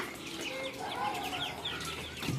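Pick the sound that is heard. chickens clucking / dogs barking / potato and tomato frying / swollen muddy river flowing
chickens clucking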